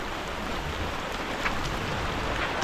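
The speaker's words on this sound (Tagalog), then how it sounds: "Grabe yung ulan na ito." Heavy rain pours steadily as a dense, constant hiss with no break, seemingly out at sea near a boat.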